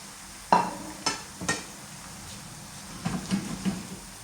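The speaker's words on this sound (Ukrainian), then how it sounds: "смажиться цибулька наша" Onions sizzle quietly in a pot while a utensil scrapes and knocks against it a few times, close by and fairly soft.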